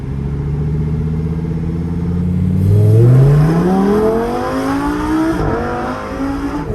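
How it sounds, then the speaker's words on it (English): A 2021 Lamborghini Huracan Evo coupe's engine roars loudly as it accelerates hard, the pitch climbing steadily through the revs, dropping at a gear change and then rising again, heard from inside the car with no talking. "It's the loudest car I've ever been in."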